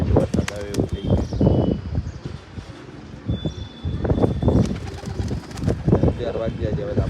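Pigeons coo and call around a spot where one is drinking water, heard under near-continuous talking, with an overcast, pre-rain outdoor feel.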